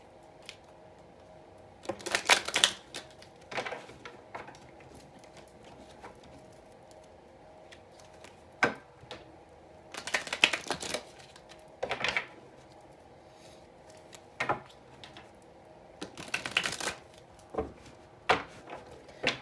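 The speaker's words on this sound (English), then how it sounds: "I'm going to shuffle a little bit." Soft shuffling and riffling of tarot cards in bursts, with quiet gaps between handfuls, recorded close in an otherwise quiet room.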